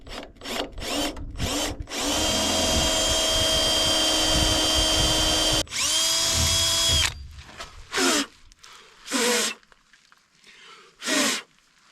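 Power drill boring a hole for a fender mount, running in a long steady burst and then a shorter one, close and loud, followed by a few brief scraping and rustling handling sounds.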